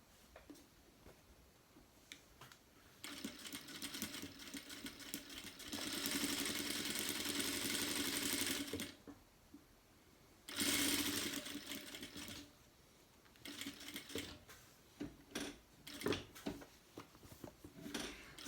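Sewing machine stitching a car trash bag, sounding in two steady mechanical runs of rapid needle chatter, each a few seconds long, separated by a pause and followed by softer handling clicks and rustles.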